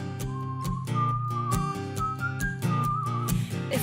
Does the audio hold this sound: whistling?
yes